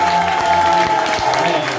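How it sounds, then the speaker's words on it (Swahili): A church congregation at a grand opening claps in a steady, continuous wash of applause, moderately loud and sustained throughout. "Basi makofi mazuri kwa sababu"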